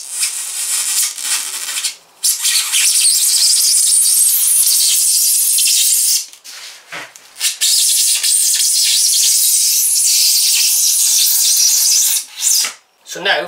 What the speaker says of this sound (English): I'm now going to go back through that line at the full depth of the blade, and I find this easier to do freehand.